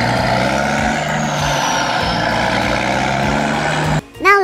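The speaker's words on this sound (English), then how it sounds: "A truck sounds like this." A heavy truck idles and rumbles loudly at close range with a steady engine drone, then near the end the engine note drops away and a short burst of sound follows.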